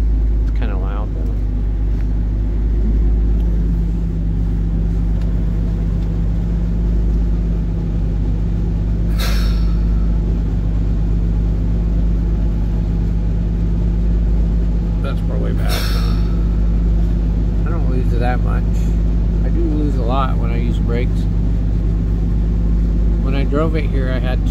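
Engine of a 1957 GM PD4104 bus runs loudly and steadily throughout, a constant low rumble with a few brief higher-pitched noises and chirps rising over it.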